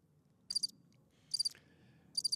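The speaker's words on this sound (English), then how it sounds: "those crickets do tell the truth" Crickets chirp in three short, bright bursts spaced about a second apart, each a quick trill standing out over a low, quiet background hum with no speech.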